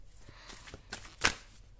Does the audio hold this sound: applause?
no